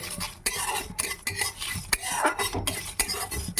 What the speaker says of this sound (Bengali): একটা শুকনো খোলা একটা ভাজা মশলা বানিয়ে নিচ্ছি